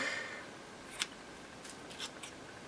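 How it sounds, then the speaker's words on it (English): Scissors snipping cheesecloth into small scrappy bits for a Christmas ephemera craft project, a few quiet, sharp snips spaced apart over soft background hiss. "The little scrappy bits then. Let's just cut some more."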